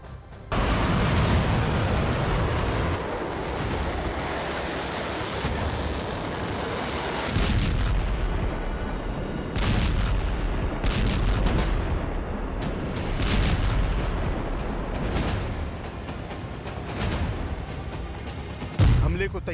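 Hezbollah rocket fire and explosions on northern Israel make loud, repeated booms and roaring bursts across about twenty seconds, with a voice talking over parts of it.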